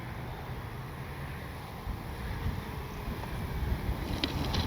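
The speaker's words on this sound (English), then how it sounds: "The wind just kicked up again." Gusty wind sweeps across an RC model airfield, buffeting the microphone with a steady low rumble that swells and grows louder toward the end, with no voices over it.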